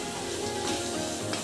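Crab pieces sautéing in a spice masala in a pan, giving a steady close sizzle with light stirring scrapes over a broadband frying hiss, no voices.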